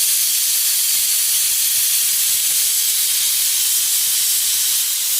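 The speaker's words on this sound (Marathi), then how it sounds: "अजून कुकरच्या 2 शिट्ट्या झाल्या." A pressure cooker vents steam in a loud, continuous, sharp hiss that holds steady close by for several seconds with no talking.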